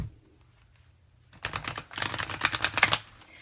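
Thick oracle cards shuffled horizontally, a dense run of soft rapid clicks and riffling flutter lasting about two seconds after a quiet start, close and fairly loud with no talking.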